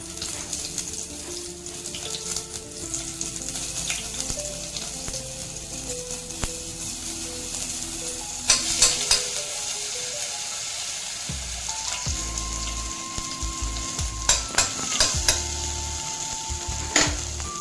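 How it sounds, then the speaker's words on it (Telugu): Chopped ginger fries in hot oil in a pan alongside a dried red chili, a steady close sizzle with scrapes and clinks of stirring, occasional sharper pops, and a faint background hum. "కొంచెం అల్లం కోసి వేస్తాను"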